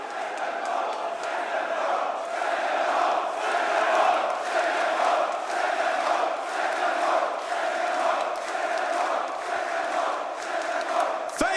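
A large esports arena crowd at a Dota 2 Major roars and chants continuously, rhythmic surges of cheering filling the space with a dense, echoing wall of voices.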